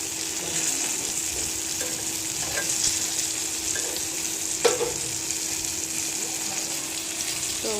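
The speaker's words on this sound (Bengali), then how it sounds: "আমার বেগুনটা ভাজা হয়ে যাচ্ছে" Eggplant frying in an oil-filled pan, a steady close sizzle throughout with occasional sharp spits and pops.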